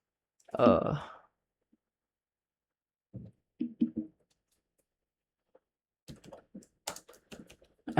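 Slow, sparse typing on a computer keyboard during a Python coding session, with short clusters of close, quiet key clicks separated by pauses, and a brief bit of speech at the start.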